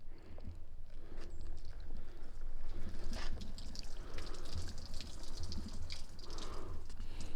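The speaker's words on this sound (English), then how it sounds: "I'll show you what happens here if I pour some water down the cover" Water poured down a waterproof Transhield snowmobile cover patters and trickles continuously, close and fairly loud, with scattered splashes and drips as it runs off the fabric.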